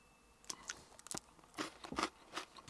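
Close, quiet crunching bites into a crunchy chocolate bar followed by chewing, with several crisp snaps spaced irregularly over a few seconds.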